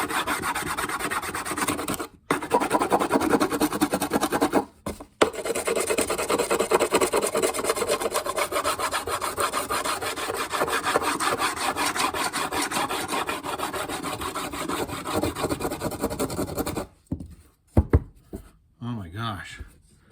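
Charcoal is scratched into the wood of a cigar box guitar in a dense, raspy rubbing that runs nearly continuously, with brief pauses and a soft trailing scrape at the end.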